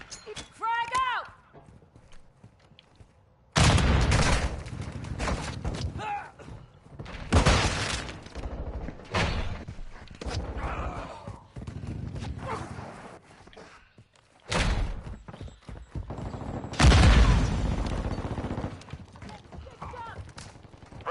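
Heavy gunfire and explosive blasts in Modern Warfare 2 erupt in several loud bursts separated by quieter stretches, including a big booming hit near the end, with voices shouting amid the combat.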